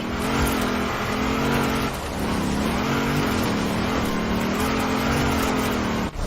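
A car engine in the video game Forza Horizon 4, droning steadily and loudly throughout, revving and shifting pitch as the vehicle drives toward a quarry, with a brief dip near the end.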